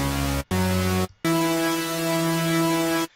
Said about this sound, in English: So you can hear it's kind of got the white noise-ish in the background,